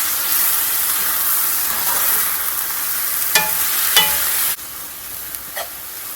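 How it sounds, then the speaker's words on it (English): A pan sizzles with a loud, steady hiss for pizza casserole, broken by a couple of clinks; drained tomato juice is poured in and the sizzle suddenly dulls and quietens. "I'm going to add a little bit of the juice that I drained off of those tomatoes"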